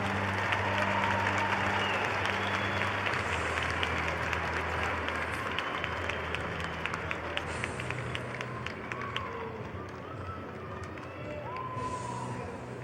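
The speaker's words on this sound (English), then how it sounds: "give these guys a great round of applause" A crowd at a South Dakota high school individual wrestling tournament applauds the newly crowned champions in a long, steady round of clapping with some cheering, while a PA announcer's voice sounds over it.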